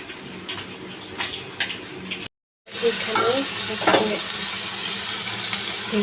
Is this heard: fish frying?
yes